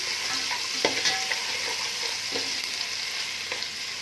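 Garlic, cinnamon, cloves and cardamom fry with a steady sizzle, with occasional clinks and stirring scrapes of a utensil in a pan, continuous and close.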